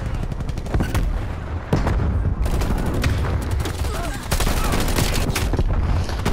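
Rapid automatic bursts from an RPD light machine gun in Call of Duty: Black Ops Cold War, loud and near, rattling almost continuously with brief gaps and mixed with other gunfire in a chaotic match.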